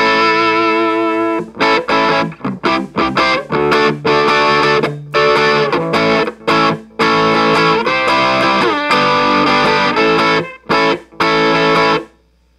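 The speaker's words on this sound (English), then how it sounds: "Then it goes to Bad Monkey, which is my" Electric guitar on both pickups driven through a Bad Monkey tube distortion pedal, loud choppy overdriven chords and riffs with short stops and bursts, ending in a brief ringing tail.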